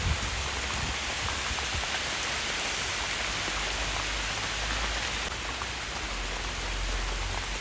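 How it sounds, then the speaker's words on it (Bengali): Heavy rain pours down in a dense, steady hiss, close and unbroken, with no voices. "বৃষ্টিটাও ঝমঝম করে নেমে পড়েছে"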